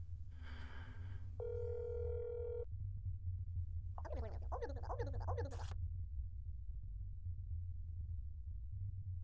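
Telephone ringing in the video game That's Not My Neighbour: a steady electronic tone and then a warbling trill, both loud over a constant low game hum, with no talk.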